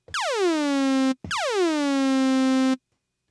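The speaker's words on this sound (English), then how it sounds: "when I turn on the decay slope with the pitch envelope, it would sound like this" Two notes from a Roland Aira synthesizer oscillator with a decaying pitch envelope, each starting high and swooping quickly down to a steady buzzy tone that holds before cutting off, separated by a brief gap.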